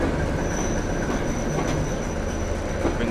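A Class 73 locomotive braking to a stop in Train Simulator 2016, a continuous rumbling rail roll with a thin high squeal of the wheels running throughout, steady and close.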